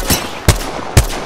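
Gunfire from a weapon in Apex Legends: three sharp, loud shots spaced about half a second apart, each a broadband crack with a short tail, close and alone.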